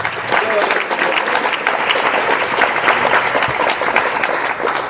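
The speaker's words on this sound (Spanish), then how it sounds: "El aplauso al Señor." A church congregation breaks into steady, dense applause for the Lord during a Spanish-language sermon, filling the space with continuous clapping throughout.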